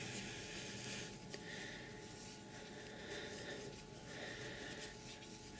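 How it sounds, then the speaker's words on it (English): Polish cream is rubbed into a phone screen, giving a continuous close soft rubbing and smearing sound with slight rhythmic swells and no talking. "push it into the cracks a little bit, give it a good rub"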